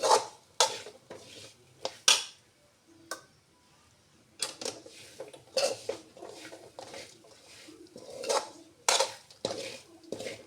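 A spoon or spatula scrapes and clinks against a pan while moist grated coconut is dry-roasted for a village chutney powder, giving sharp, irregular metallic taps and scrapes at close range with short quiet gaps and no talk.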